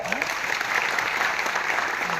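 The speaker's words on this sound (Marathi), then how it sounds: "वहिनीसाठी पण एकदा जोरदार टाळ्या होत्या" An audience at a lecture bursts into dense, sustained applause, many hands clapping together at an even volume for a couple of seconds.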